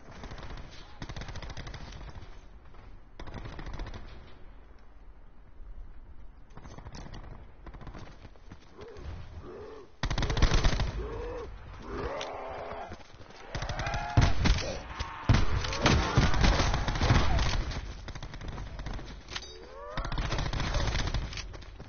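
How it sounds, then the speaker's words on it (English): Bursts of machine-gun fire crackle in rapid volleys, loud and close, with quieter stretches between them and heavier salvos building in the second half. "Shooting."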